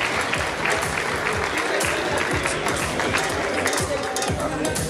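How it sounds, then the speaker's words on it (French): A crowd applauds women's rugby players at an official new-jersey presentation. The clapping is dense and steady for the whole stretch, with faint chatter mixed in. "On peut les applaudir bien fort."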